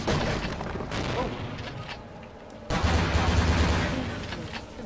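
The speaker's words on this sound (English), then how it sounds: "Someone's shooting me through the wall or something." Gunfire coming through a wall in Vampire the Masquerade: Bloodlines, heard as loud, dense bursts of booming shots that drop off briefly midway and then return in another heavy volley.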